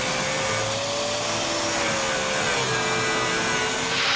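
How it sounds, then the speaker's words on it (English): An abrasive cutoff wheel on a grinder works an aluminum rail during an installation job, giving a steady, loud, continuous whine with a shifting pitch that runs without a break for about four seconds. "we need to grind the aluminum part of it"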